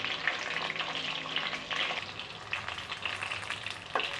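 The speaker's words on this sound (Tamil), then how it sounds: "கத்திரிக்காய் எண்ணெயில் வறுக்கும்போது நிறைய தெறிக்கும்." Brinjal (eggplant) pieces fry in hot oil for oil kathrikkai kuzhambu, giving a continuous crackling sizzle with spattering pops and occasional stirring, fairly quiet and close, with no voices.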